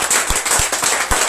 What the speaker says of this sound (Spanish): Dale un fuerte aplauso a nuestro Dios.